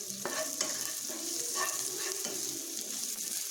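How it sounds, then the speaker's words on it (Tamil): Onions frying to golden in a pan make a quiet, continuous sizzle, broken by repeated scraping strokes of stirring, with nobody speaking. "ஆனியன் வந்து நல்லா கோல்டன் கலரில் ஃப்ரை ஆகிடுச்சு"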